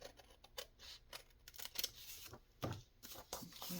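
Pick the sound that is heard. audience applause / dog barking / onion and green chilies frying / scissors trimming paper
scissors trimming paper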